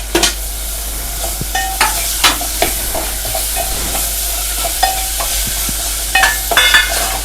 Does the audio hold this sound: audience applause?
no